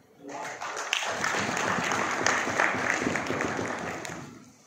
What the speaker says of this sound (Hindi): इसीलिए ताली बजा रहे हैं